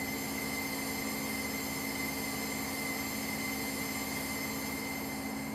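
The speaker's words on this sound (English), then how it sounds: "Flange squeal just like the pacer. It does, doesn't it? Yeah, squealing round the corners." Flange squeal from a train rounding curves in the Train Sim Classic game, a steady high-pitched metallic squeal over a constant rumble of rolling wheels, loud and continuous with no talking.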